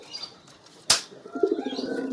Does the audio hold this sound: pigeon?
yes